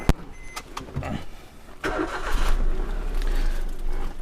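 A used car's engine cranks and catches after a sharp click, then settles into a steady low running rumble, close by and fairly loud, with no talking.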